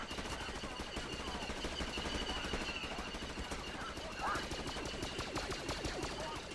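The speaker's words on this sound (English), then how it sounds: "More are firing at these droids" Rapid blaster fire crackles steadily through a Garry's Mod battle between droids and clones, with dense overlapping shots from many weapons continuing throughout at moderate distance.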